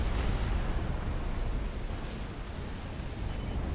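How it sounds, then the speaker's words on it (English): Missile explosions in the real-time strategy game Supreme Commander roll together into a dense, continuous rumble of booms and bursts, loud and sustained, with no talk. "Explosions took out the back ones before they could actually hit the shield or reach through it."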